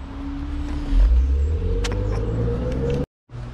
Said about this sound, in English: Careful, here comes a car.